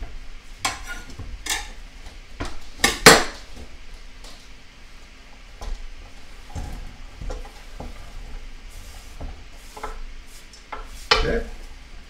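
Sliced cucumbers hit a hot pan and are tossed and spread around, giving scattered loud clanks and scrapes of utensil on metal over a low, steady sizzle, with pauses between the stirs.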